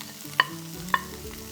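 Small onions (shallots) sautéing in a pan: a soft sizzle underneath two sharp, close spatula taps against the pan, spaced about half a second apart.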